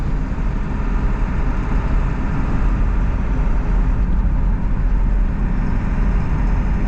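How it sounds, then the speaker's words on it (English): A 2001 Ford F-550 work truck engine with a slightly leaking driver's side exhaust manifold, a steady loud low rumble heard from inside the cab while driving, with continuous drone and road noise. "Sounds like the driver's side exhaust manifold's leaking a little bit."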